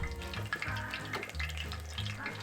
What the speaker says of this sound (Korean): 너도 입수 기름이 엄청 튀네요